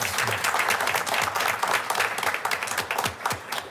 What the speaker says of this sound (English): So if you would, that deserves a round of applause.